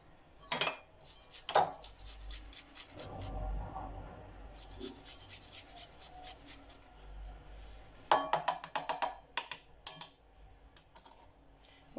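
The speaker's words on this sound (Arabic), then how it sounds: "جوج دريسات ديال الثومه كنحكوهم" Two garlic cloves are grated by hand, giving quiet, close rasping strokes in short bursts with occasional light metallic clinks and scrapes between them.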